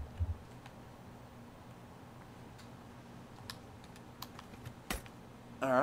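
Keys tapped on a computer keyboard during a game's training screen, a sparse scatter of faint, quiet clicks over low hum with a brief louder burst at the end.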